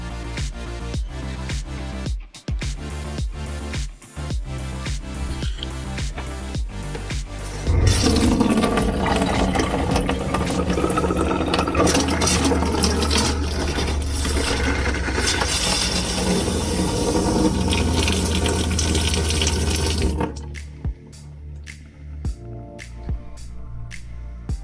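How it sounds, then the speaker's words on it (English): A trailer's water pump runs during winterizing, drawing pink antifreeze through the water lines: a steady rhythmic ticking pulse, then several seconds of loud continuous rushing water flow, and the ticking pump rhythm returning at the end. "I do that by turning on the pump and then just waiting a few minutes."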